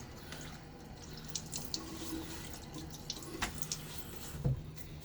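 A bathroom faucet runs steadily into a sink as water is splashed on a face before a wet shave, quiet and close, with a few small splashes and drips.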